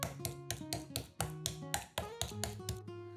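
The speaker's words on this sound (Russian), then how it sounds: "Рыбу немного отбиваем молотком для мяса с одной стороны." A meat mallet pounds a pangasius fish fillet on a board in a series of close, sharp thuds, irregularly spaced, over light background music.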